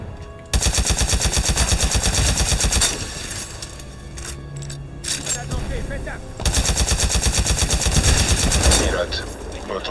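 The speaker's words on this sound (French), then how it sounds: "C'est l'ennemi, tire de suppression!" Sustained automatic suppressing gunfire from the video game Titanfall 2, loud and close, in long rapid bursts with a brief quieter lull in the middle and faint voices beneath.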